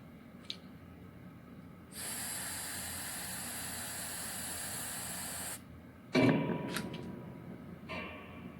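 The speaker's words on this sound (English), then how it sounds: "you can take some spray paint and put it into a cup." Signal Yellow aerosol spray paint hisses steadily into a cup in one continuous burst of about three and a half seconds, close and clear, followed by a brief clatter and a few short spritzes.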